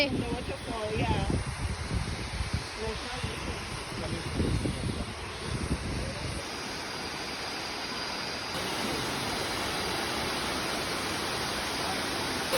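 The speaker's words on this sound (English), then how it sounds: "The waterfall," A waterfall at Lisbon Cove pours as a steady, broad rushing roar that fills the whole clip, with some rustling and handling noise early on and no clear talk.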